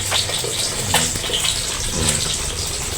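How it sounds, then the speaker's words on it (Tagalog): A little water is poured into a mix of vinegar and soy sauce, giving a steady splashing gush close by that lasts about three seconds without a break. Nobody talks over it. "Lagyan ko siya ng konting tubig."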